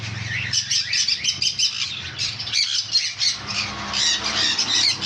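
Caged pet birds, including sun conures and other parrots like cockatiels and lovebirds, give loud shrill squawks and chirps in rapid overlapping bursts, close by and continuous with no talk.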